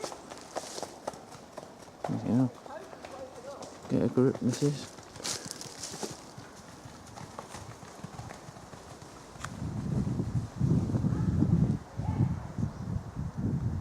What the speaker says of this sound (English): Look, some horses.